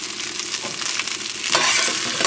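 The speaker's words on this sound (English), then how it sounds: "now we're going to saute the vegetables" Vegetables sauté in chicken fat, sizzling and crackling in a hot frying pan, with brief stirring scrapes and a louder burst of hissing partway through.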